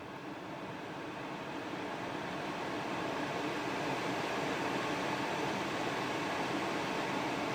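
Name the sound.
Hyundai i20 car air conditioning blowing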